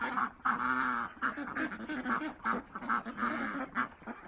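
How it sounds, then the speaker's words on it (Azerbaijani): Pekin ducks call noisily at close range, a rapid series of loud, harsh honking quacks with short gaps, several birds overlapping. "Bunlar lal ördəkdən daha sərfəli əslində. Prosto səsküylüdürlər."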